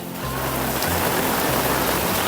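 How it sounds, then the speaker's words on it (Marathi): Heavy rain pours down in a dense, roaring wash of noise that starts up within the first moment and then holds loud and constant, with no voices over it. "हे पाऊस हे पाऊस जोरदार पाऊस चालू आहे"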